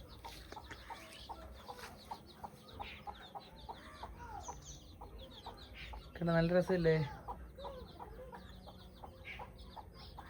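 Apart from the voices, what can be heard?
chicks clucking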